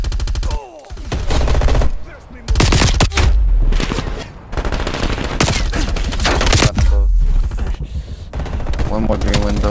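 Rapid automatic gunfire from an MP5 in a Call of Duty Black Ops Cold War multiplayer match, loud bursts repeating almost continuously with brief gaps, with a player's voice talking over the shooting.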